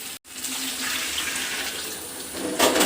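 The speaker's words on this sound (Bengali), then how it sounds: "জলটা একটু পরিমাণ মতো দিবেন যাতে জিনিসটা একটু সিদ্ধ হয়" Water pours steadily into a cooking pan of brown rice vegetarian khichuri, a continuous close splashing stream that swells slightly near the end, with no talk.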